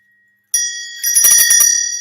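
A small brass bell decorated with a deer is rung close up, a bright sustained ring at first, then a rapid run of rhythmic jingling strikes that slowly fade, with no talking.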